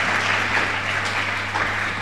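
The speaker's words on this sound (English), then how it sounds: "Let's give them another round of applause for this exciting time." Audience at a healthcare financing symposium gives speakers a short round of applause, a brief wash of many hands clapping evenly, moderately loud and without speech.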